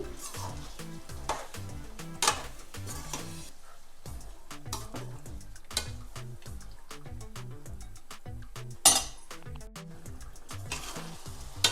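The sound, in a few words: stirring mutton curry in a frying pan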